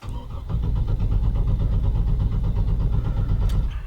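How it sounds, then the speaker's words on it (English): A GMC Envoy engine cranked with the ignition key but failing to start: a steady, loud, rhythmic starter churn with a fast pulsing beat that continues for several seconds without catching. "rotate the rotate ignition key to the crank position and attempt to start the vehicle"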